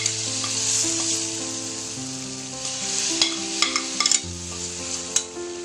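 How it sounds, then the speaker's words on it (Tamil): Beetroot kootu with spices is stirred in a pan, the spoon scraping and clicking against the metal over a steady sizzle, close up, with sharper knocks toward the end and no talking. "சேர்த்து நல்லா கலக்கிக்கங்க."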